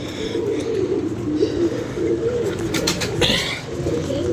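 Pigeons coo steadily throughout, a low, continuous murmur of overlapping calls close by, with a few faint higher chirps near the end and no talking.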